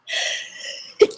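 A single short, sharp sneeze bursts out at the very end, after a soft breathy intake, close to the microphone in a quiet room.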